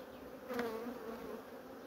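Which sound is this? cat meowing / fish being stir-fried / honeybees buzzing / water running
honeybees buzzing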